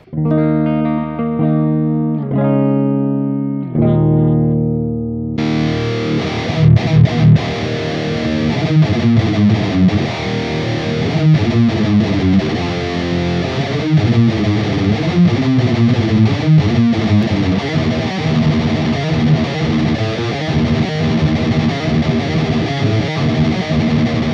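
A heavily distorted electric guitar through a DigiTech Metal Master distortion pedal, opening with a few clean-ish sustained chords, then a loud, saturated riff playing continuously with thick crunch.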